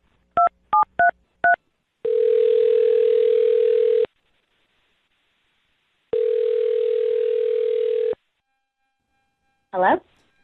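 Four quick telephone keypad tones, then two long steady ringback tones separated by silence, clear and close, ending with a brief burst of a voice on the line for a radio show call.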